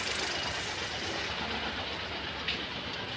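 A 2021 Geely Coolray engine misfires at idle, giving a continuous, close rumbling hum with slight unevenness and no voices over it.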